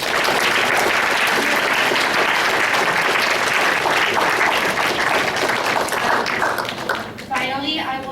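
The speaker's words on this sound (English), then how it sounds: "I would like to give a round of applause for our wonderful panelists" An audience gives a sustained round of applause for panelists at a bootcamp event, a dense steady wash of many hands clapping for about seven seconds, fading slightly as a voice begins at the end.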